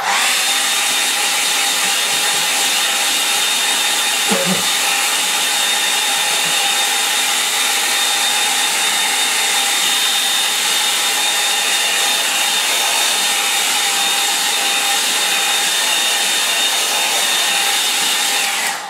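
Hair dryer drying a fresh watercolour landscape painting, a continuous loud whine and rushing airflow held steadily throughout, with one brief soft bump near the start.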